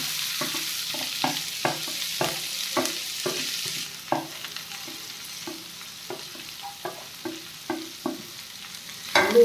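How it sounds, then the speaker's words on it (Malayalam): Onions being stirred in a hot pan over popped cumin seeds, a low sizzle under a steady run of spoon scrapes and clatters, close and moderately loud with no voices. "ഉള്ളി ഇട്ട് നല്ലപോലെ വഴങ്ങണം."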